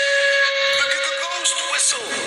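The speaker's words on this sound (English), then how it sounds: "Thomas wheeshed and set off an old steam whistle" An old steam engine's whistle sounding a sustained, steady shrill tone with hissing steam around it, fairly loud and close, fading into noisy hiss toward the end.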